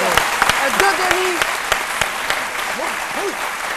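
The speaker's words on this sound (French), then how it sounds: "On applaudit très fort Loïc Dodoni." A TV studio audience on an Ivorian midday talk show applauds, bursts of clapping mixed with sharp individual claps, while a presenter's voice and some musical tones run over it.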